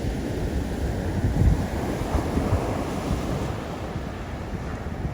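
Atlantic Ocean surf at Jupiter Beach, Florida, rolls in as a steady, loud wash of breaking waves mixed with wind buffeting the microphone, with no voices.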